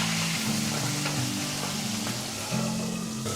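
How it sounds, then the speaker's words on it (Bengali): Rui fish head frying in hot oil in a pan, a dense continuous sizzle with bubbling crackle, close and steady with a low humming tone underneath. "আর এক পিঠ ভেজে নেব।"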